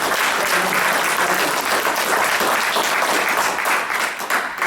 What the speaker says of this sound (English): I hope that you will all give him a really warm round of applause